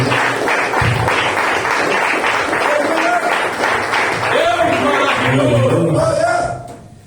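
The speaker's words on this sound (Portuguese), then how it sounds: "E aplaude ao Senhor em nome de Jesus." Pentecostal church congregation applauding the Lord during a Thursday worship service, loud sustained clapping mixed with voices and singing that fades out near the end.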